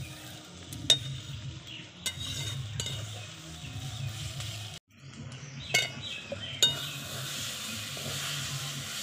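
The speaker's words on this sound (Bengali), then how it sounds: "এখন আরও কিছুক্ষণ ভেজে নেব।" Eggplant sizzles in a kadai while a metal spatula breaks it up for begun ghanto: a steady close fry with scraping, sharp clinks near the start and later, and a brief pause midway.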